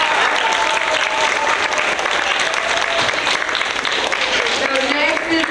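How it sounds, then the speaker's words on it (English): Sustained applause from a school assembly audience of seventh graders at an honor roll ceremony, a dense steady roar of many hands clapping with no letup for several seconds and a faint voice underneath near the end. "Let's give these guys a round of applause"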